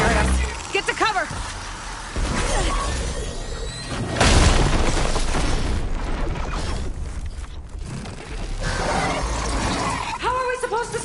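A hostile machine in Horizon Forbidden West firing at the player, heard as a heavy roaring blast and rumbling mechanical bursts amid swirling game effects, with whooshing tones at the start and end.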